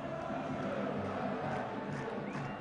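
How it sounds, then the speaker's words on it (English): A good-sized football crowd at a 1976 Tottenham Spurs versus Aston Villa match gives an enthusiastic welcome, a dense, continuous roar of cheering with no clear break. "Given an enthusiastic welcome by a good-sized crowd."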